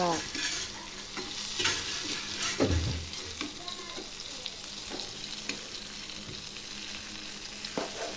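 Bangda mackerel fish frying in a pan in a Konkan home kitchen, a steady close sizzle with occasional stirring scrapes and clatter, no talk over it.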